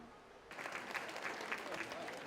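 Applause breaks out at a senior facility volunteer appreciation luncheon, starting abruptly after a quiet moment and continuing as a dense, moderately loud patter of clapping from a roomful of people.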